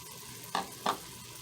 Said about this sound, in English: next we're going to go ahead and add our onion